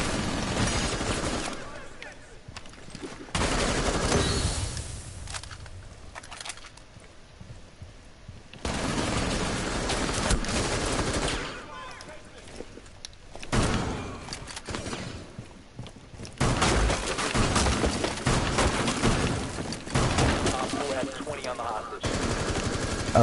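Gunfire in Rainbow Six Siege rattles in repeated automatic bursts and bursts of shooting throughout, moderately loud with short pauses between volleys, with someone talking at times.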